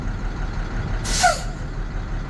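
A Class A truck's air brakes release a single loud, sharp hiss of compressed air during a pre-trip inspection, short and up close against steady background noise.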